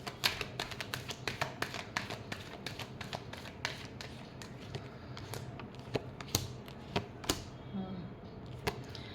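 Tarot cards shuffled in a steady flurry of crisp, snapping clicks and riffles, close and fairly soft, with the pace quickening and slowing throughout.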